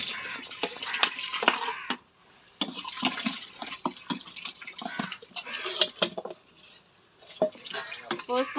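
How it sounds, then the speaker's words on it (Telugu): Tamarind juice poured into a pot of sambar in a home kitchen: liquid splashes and trickles in several bursts, broken by short pauses, close and moderately loud. "దీనిలో చింతపండు పులుసు పోసుకుంటున్నానండి."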